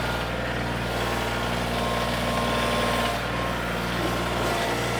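A tractor engine idles steadily with a low, constant drone and faint mechanical rattle while carrying a loaded pallet on its forks over uneven ground, close and loud with no talk.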